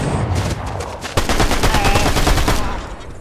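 Rapid gunfire in Fortnite Chapter 5 Season 2 rattles out in a dense, loud burst of quick repeated shots, close and continuous for about three seconds before trailing off.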